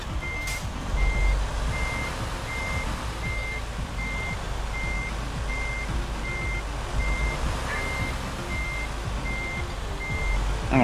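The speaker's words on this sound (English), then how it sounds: "Oh, the backup beeper is still on" A truck's backup beeper in American Truck Simulator sounds a steady train of evenly spaced electronic beeps, about one per second, over a low idling engine rumble that lasts throughout.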